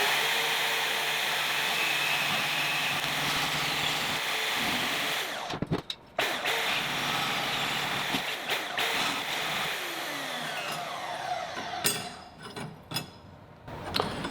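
Portable bandsaw cutting through a VEVOR E track steel rail, a loud, continuous buzzing drone with a gritty metallic edge, briefly dipping mid-cut and ending in a few uneven bursts as the blade finishes.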